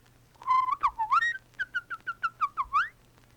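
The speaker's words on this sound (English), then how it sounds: "The birds started whistling again." A short series of clear whistled notes, rising and falling in quick chirpy bursts, about a dozen in a row against quiet background hum.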